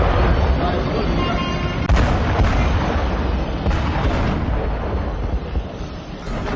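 A heavy, rumbling explosion blast from an Israeli strike on a Houthi port, a loud continuous low roar with a few sharper bursts and thuds, heard at a distance with no talking.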